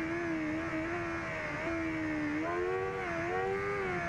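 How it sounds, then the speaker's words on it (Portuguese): Carbureted Honda Hornet motorcycle engine in the racing game RIDE 2, droning steadily with a strong harmonic whine that rises and falls as the revs shift, loud and close with no talk. "vamos ouvir um pouco o ronco do motor e curtir um pouco esse circuito"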